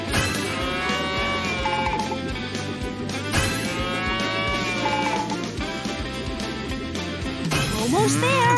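A cartoon cow moos in the PAW Patrol Rescue World video game, drawn-out calls under busy game music and effects, with character voices talking over it.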